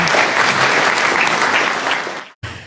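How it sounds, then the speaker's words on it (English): Loud, dense applause from an audience at an award ceremony, a brief burst that fades, cuts out to a moment of silence, then resumes. "a photo and a round of applause"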